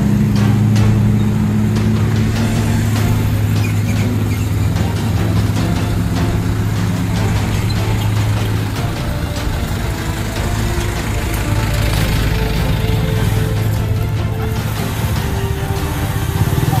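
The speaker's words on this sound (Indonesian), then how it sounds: "Ini ada bus mundur lagi." A bus reverses up a steep uphill road at the Batu Nunggul climb after an accident, its heavy engine droning steadily and loudly throughout with a continuous low rumble.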